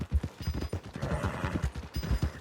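Horse hooves clip-clop on the ground near the stables in the video game Red Dead Redemption 2, as a steady run of close, loud, uneven beats over about two seconds.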